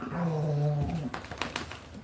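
Rex, an elderly red heeler, lets out a close, tonal whimpering whine that falls in pitch, followed by a few short snuffles and soft clicks.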